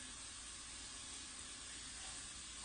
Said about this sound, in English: So while the bacon is frying